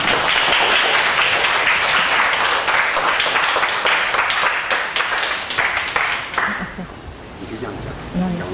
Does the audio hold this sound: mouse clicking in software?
no